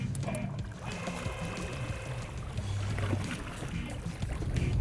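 Small fishing boat heading farther out on Lake Balaton, a steady low motor drone with water washing and splashing against the hull, continuous and fairly close, no voices.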